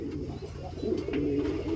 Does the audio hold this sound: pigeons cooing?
yes